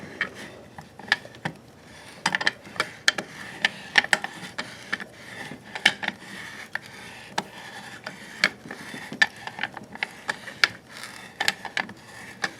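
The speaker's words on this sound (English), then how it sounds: "Then you'll take the tub spout, slide it over that, and just thread it on." A metal tub spout is threaded by hand onto a copper pipe, giving a steady series of small scraping, ratcheting clicks and rubs at close range with no talk.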